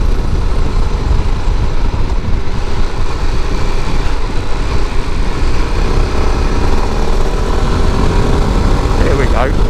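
An Aprilia Pegaso 650 motorcycle rides along a country lane, its engine a loud, continuous drone with steady wind rush close to the rider and no letup throughout.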